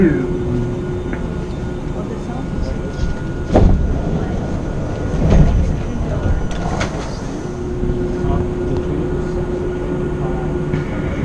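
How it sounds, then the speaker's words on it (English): An airport terminal train runs with a steady rumble and rattling, a few louder clunks, and a recorded voice making announcements over the noise. "This train serves Airline Terminal Number 1."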